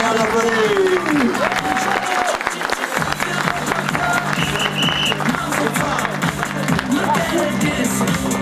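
An outdoor crowd at a rally podium ceremony claps steadily for several seconds, the applause mixing with a loudspeaker voice and background engine noise.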